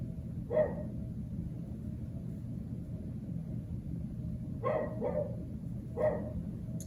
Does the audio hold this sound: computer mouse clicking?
no